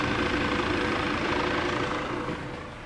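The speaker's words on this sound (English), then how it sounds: "So the helicopter's coming down." A helicopter descending onto an interstate highway at night gives a steady, loud, broadband engine and rotor roar that fades slightly toward the end, heard alone without speech.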